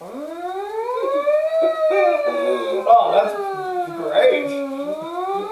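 A voice imitates a siren with a rising and falling wail, sung close and loud, while another person briefly speaks over it.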